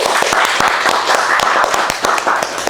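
Loud, close audience applause for a guest on an entertainment talk show, brisk overlapping claps with sharp individual hand strikes, sustained throughout and unbroken by talk.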